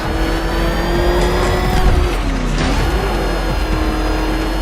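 Batmobile engine in the Batman: Arkham Knight video game, a steady loud mechanical whir and drone that rises and dips in pitch as it revs, heard alone without speech.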